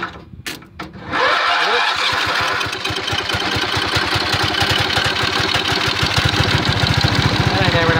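A John Deere 111 lawn tractor engine cranks briefly, catches, and settles into a loud, fast, steady running chug close by.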